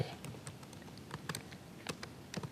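Fingers type steadily on a computer keyboard while working in a Microsoft Office document, with irregular light key clicks throughout, soft and close, with no voices.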